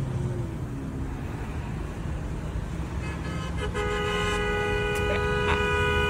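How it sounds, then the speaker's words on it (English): Car horn honking in traffic, a few sustained toots in the second half sounding over steady road noise and engine rumble. "Always nice to hear a good old car honk annoyance"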